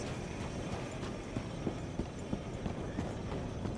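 Horse hooves clip-clopping in Red Dead Redemption 2, a steady, moderately paced rhythm of soft hoofbeats on a town street, close and fairly quiet under a low ambient background.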